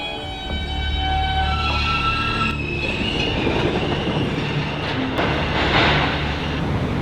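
New York City subway E train running, a loud, steady rumble and rattle of railcars with screeching wheel squeals and clattering over the tracks, heard close from on board, with no talk.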